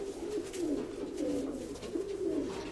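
Pigeons cooing close by, low rolling coos repeating in soft rhythmic phrases over a steady background hiss.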